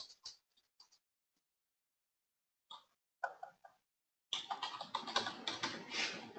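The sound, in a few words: typing a Facebook page name on a computer keyboard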